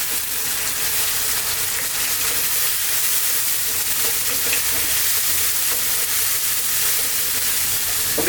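Pureed tomato with cilantro and chili hitting potatoes already frying in a pot for fish curry, giving a steady, loud sizzle with stirring that carries unbroken through the whole stretch and no voices.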